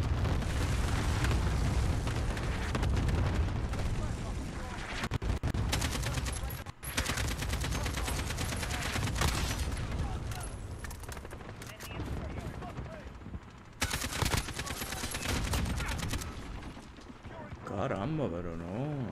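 Rapid gunfire in the video game Call of Duty Modern Warfare, dense sustained bursts filling nearly the whole stretch with only brief gaps, loud and close.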